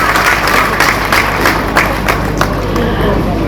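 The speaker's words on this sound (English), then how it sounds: "they deserve your appreciation and your applause" Dense clapping from an audience at an organic farmers' convention in Kochi, Kerala, holds at a fairly loud level over a low hum, with individual claps poking out and some voices mixed in.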